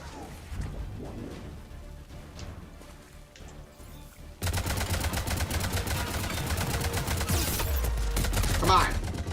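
Turret gunfire in the Mass Effect video game comes as dense, continuous rapid bursts. It grows louder and heavier partway through and keeps up to the end, with no voices over it.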